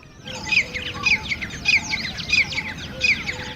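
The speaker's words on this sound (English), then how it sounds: "The cries of the peacock, calls of the Indian cuckoo and Asian coals were all so exotic to our ears" Exotic Indian bird calls, peacock cries among them, repeat as shrill, bright bursts roughly every half second to second, clear and fairly close over a quiet background.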